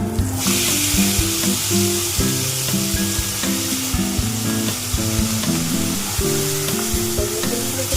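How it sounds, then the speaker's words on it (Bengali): Drumstick flowers and potatoes fry together in a pan, a loud, constant close sizzle with occasional stirring, running under background music with no talk. "আমি আমার সবজি ফুলগুলো দিয়ে দেবো"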